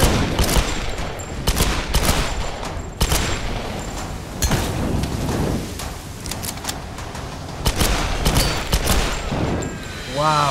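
Enemy gunfire in Tomb Raider (2013), sharp shots and bursts cracking out repeatedly across a dense, noisy battle soundscape, loud and close throughout.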